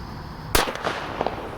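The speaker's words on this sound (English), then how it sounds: "here goes the gigantic firecracker" One gigantic firecracker goes off with a single sharp bang at a distance, followed by a few fainter crackling pops.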